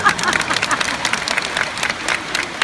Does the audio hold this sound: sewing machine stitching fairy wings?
no